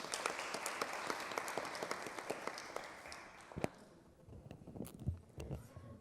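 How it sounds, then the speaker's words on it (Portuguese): Applause from a seminar audience at a legislative school event, fairly quiet clapping from a crowd that thins into scattered claps and background murmur. "Uma salva de palmas para ela."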